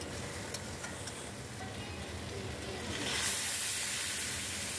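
Water poured into a pan of sizzling masala for a potato curry, a broad steady hiss that swells into a brighter, louder steaming rush partway through.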